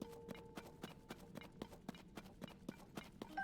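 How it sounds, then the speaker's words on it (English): Horse hooves clip-clop in a steady, even rhythm from a mount in the video game The Legend of Zelda: Tears of the Kingdom, close and fairly loud, with a faint background drone and no talk. "I don't think that gets my horse friend to come"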